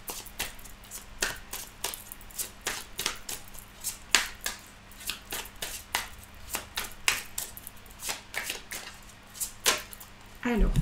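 Tarot cards are shuffled by hand nearby, a regular series of crisp papery slaps and riffles repeating roughly twice a second for several seconds.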